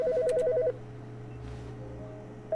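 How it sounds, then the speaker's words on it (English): A telephone in The Stanley Parable video game gives a short burst of electronic trilling rings. It then stops, leaving a quiet room hum. "There's a phone."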